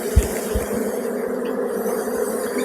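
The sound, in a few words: honeybees buzzing around a beehive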